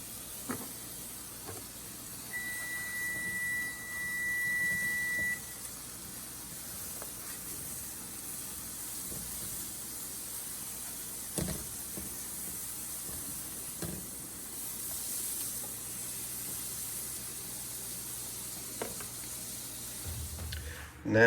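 Butter sizzles faintly but steadily in a pan as pieces are flipped for lasagna, with soft clicks and knocks of utensils scattered through the quiet hiss.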